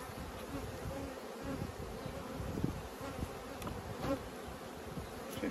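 Honeybees buzz steadily around an open beehive during swarm-making after the acacia honey flow, a dense continuous drone close by with no talk.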